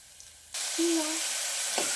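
Drumstick pieces for a gozzu sizzle in a hot pan, the hiss surging up suddenly after a quiet start and then holding steady and close, with a short tonal scrape partway through.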